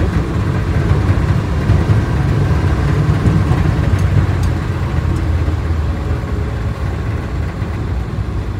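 A 1962 Dodge D200 truck engine running smoothly while driving, a steady low rumble with road noise that holds constant and fairly loud throughout, with no talking.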